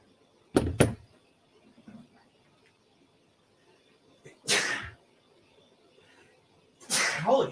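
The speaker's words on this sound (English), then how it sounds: "doing that thing with my eyebrows right before I had to sneeze made me sneeze even faster" A person sneezes several times while stuck in a traffic jam, first a sharp double burst, then two louder sneezes a few seconds apart, each close and abrupt against a quiet background.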